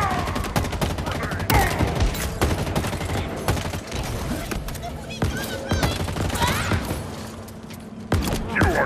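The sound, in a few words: gunfire in the video game Halo Infinite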